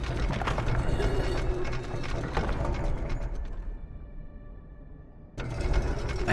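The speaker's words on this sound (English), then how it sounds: "But oh, we're going to crank it." Crank turned in the puzzle video game Colina: Legacy, a steady loud mechanical grinding and clicking for several seconds, a brief quieter stretch with a faint hum, then the grinding resumes.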